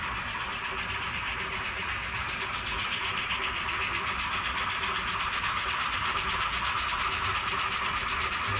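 A long model train climbs about a 2.5% ruling grade on a layout, giving a steady, continuous rolling rumble and hiss with faint clickety-clack, unchanging throughout with no talk.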